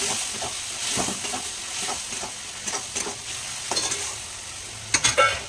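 Spice masala with chilli powder and water sizzles and bubbles in a pan as it is fried down, a steady hiss broken by a few stirring scrapes and sharper spatters near the end.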